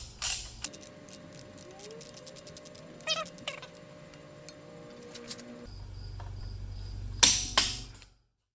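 Cylinder head bolts being threaded in by hand on a Mercruiser 5.7 marine engine, with quiet ratcheting and metallic clicks, short squeaks and a faint hum, then a louder burst of clatter near the end.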